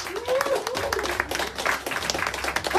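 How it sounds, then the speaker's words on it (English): An audience at a Bamma 36 press conference applauds as presenter Andy Shepherd is introduced, a sustained burst of clapping with whistle-like tones and some voices mixed in. "Please, round of applause for Mr."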